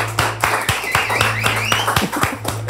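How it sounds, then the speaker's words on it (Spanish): Applause for a guest at a spicy-sauce tasting show, a lively burst of hand claps with sharp irregular taps over a steady low hum, close and fairly loud throughout. "Vamos a darle un aplauso a el señor Gluten Morgan"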